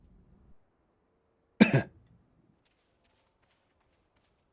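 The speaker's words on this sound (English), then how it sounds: "The cough doesn't exist in that video, in that sound file, so I have to add it myself." A single short cough, added as a sound effect over gameplay, sits in near silence with only faint low rumbling before it; one sharp close burst with a brief tail.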